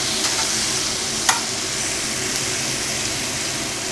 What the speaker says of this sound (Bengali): এবারে পেঁয়াজের যে কাঁচা গন্ধটা যাওয়ার জন্য একটু ভালো করে নেড়ে চেড়ে নেব